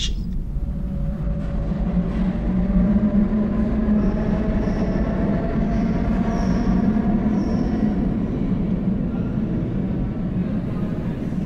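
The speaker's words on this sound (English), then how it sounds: "As the train started rattling and banging off again" Underground train running along the track, a steady loud rumble and clatter of wheels and carriages that continues throughout, with faint squealing tones from the rails above it.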